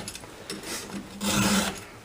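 A hand file sharpening a chainsaw chain on a Jonsered or Husqvarna saw, a few short rasping strokes close by, the last one longer and louder.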